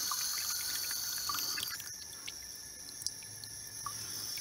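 Water keeps dripping into a toilet cistern past a faulty ballcock valve with a worn washer, making a faint, close trickle with small irregular drips and plops and no talk.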